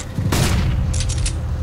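A flashbang grenade goes off in CS:GO as a single sharp, loud burst, followed by a few short, bright crackling bursts in quick succession.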